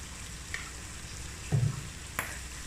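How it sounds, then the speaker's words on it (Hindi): Turmeric, red chilli and salt frying in oil in a pan for aloo lobia, a soft steady sizzle broken by a few brief spoon scrapes and one louder stirring clatter, no voices. "मसालों को मिक्स करेंगे और इसकी अच्छे तरीके से बनाई करेंगे कि इसका भी कच्चापन ख़त्म हो जाए"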